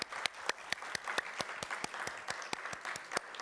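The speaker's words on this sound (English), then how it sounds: "So big round of applause for the panelists." Applause for the panelists at the end of a virtual worlds and social VR panel, heard as sparse, distinct individual claps at a steady rhythm, fairly faint and close, with no voices over it.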